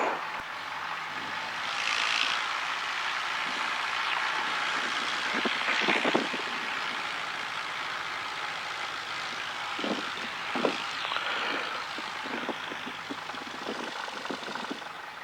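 Cessna light aircraft propeller engine idling while taxiing, a steady low drone running throughout with occasional brief rattles and clicks on top, no talk.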